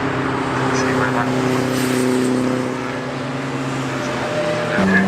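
Classic sports cars racing at Oulton Park in a CSCC event: a steady, loud engine drone with sustained tonal harmonics, cars at mid distance, with a commentator talking over the top and a brief rise near the end.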